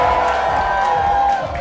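A crowd at a lumberjack show cheers and shouts encouragement for climbers, a loud, dense wash of voices that holds steady before easing off slightly at the end.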